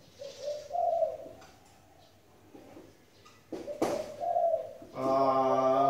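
A dove coos in several soft, rounded calls spaced across the clip, close and clear against a quiet background, with a brief clatter midway and a louder tonal sound at the end.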